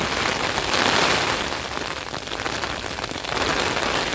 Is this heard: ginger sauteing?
no